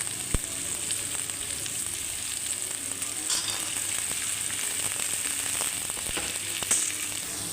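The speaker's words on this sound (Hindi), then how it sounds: "ਹੁਣ ਅਸੀਂ ਪਿਆਜ਼ ਨੂੰ ਫਰਾਈ ਕਰ ਲਾਂਗੇ" Onions frying in oil in a pan for an okra curry, giving a steady close sizzle throughout with a few sharp crackles and pops, no voices.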